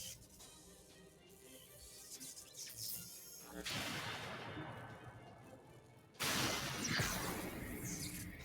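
In Fate/Grand Order, the moonlight cannon Noble Phantasm fires with two heavy, roaring blasts: a booming surge of noise that swells and sustains, then a second sudden, louder explosive burst that rings on to the end.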